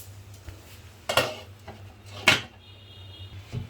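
A metal lid lifted off a pan of oats omelette gives two sharp clanks about a second apart over a quiet kitchen hum, close and with no talk.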